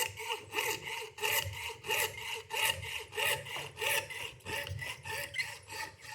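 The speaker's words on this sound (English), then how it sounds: "very gently saw on the spot, but not into your acrylic" A hand saw cuts acrylic held in a vise with steady back-and-forth strokes, about a dozen even rasps. The sawing is close and fairly quiet, with no voices.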